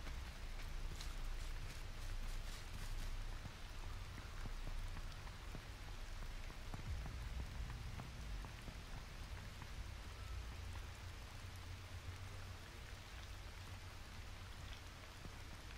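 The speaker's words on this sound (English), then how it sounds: "Why am I still hearing rain?" Steady rain patters continuously in the video game H1Z1, a soft even hiss of drops throughout with no voices.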